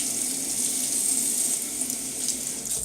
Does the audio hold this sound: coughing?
no